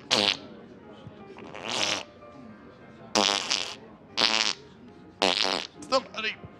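A man imitates fart noises with his mouth in a series of loud, raspy bursts of varying length, some long and sputtering, others short and clipped, separated by brief pauses.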